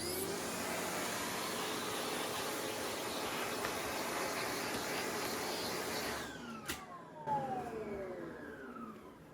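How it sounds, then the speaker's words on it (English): A Sanitaire vacuum cleaner whines steadily while cleaning out the inside of an Oreck vacuum, a constant rushing drone that falls in pitch and cuts off near the end as the motor spins down. "just going to use my sanitaire here to clean out the inside"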